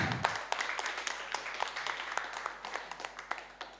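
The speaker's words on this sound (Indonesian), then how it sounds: "tepuk tangan dong" Audience applause at a talk show about the FIFA Club World Cup, a steady patter of many hands clapping with sharp individual claps standing out, moderately loud and continuous throughout.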